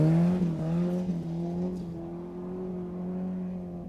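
A Toyota TE71 Corolla drives on a dirt road, its engine holding a steady, loud drone that dips slightly early on before settling, heard close with no talk over it.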